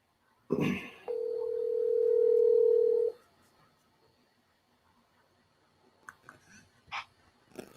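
A telephone dial tone plays steadily for about two seconds as a call is placed to a guest, preceded by a brief handling bump and followed by faint clicks and small noises before the line connects.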